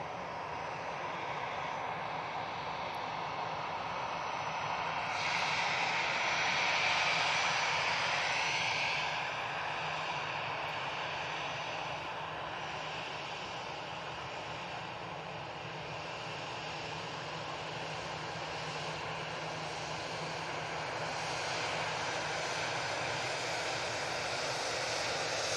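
An easyJet Airbus A319 bound for Milan taxiing at Manchester Airport, heard as a steady, moderately distant jet engine hum and whine that rises slightly early on and otherwise stays even, with no speech.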